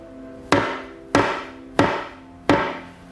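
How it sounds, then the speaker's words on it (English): A hammer striking a piece of wood four times at an even, unhurried pace, each blow a sharp ringing knock that decays quickly, close and alone. "So if I take this piece of wood and hit it with a hammer"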